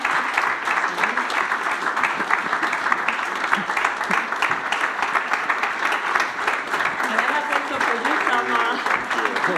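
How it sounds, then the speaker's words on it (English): Dense, steady applause fills the hall at the European Big Data Value Forum as BDVA office staff are called on stage. Many hands clap continuously at a loud level, with some voices mixed in. "big applause for them because they have been working like hell"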